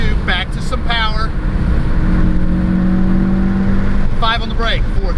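Car engine on a racetrack during an instructor ride-along, pulling hard as the driver accelerates: a loud, steady engine roar with a rising tone, and people talking over it at the start and end.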